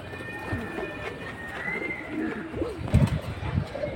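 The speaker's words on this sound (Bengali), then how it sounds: "এটা সিলভার হ্যামার কবুতর।" Silver hammer pigeons cooing close by, soft repeated low coos that grow louder toward the end, over a faint background hum.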